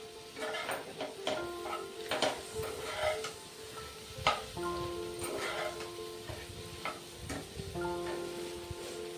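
Egg bhurji is stir-fried in a pan, heard as quiet, uneven spatula scrapes and taps over a faint sizzle, with a thin steady hum in the background.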